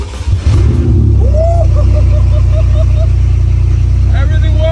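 A BMW M3 engine idles with a deep, loud rumble close by, with one clear rev rising in pitch partway through and another blip near the end.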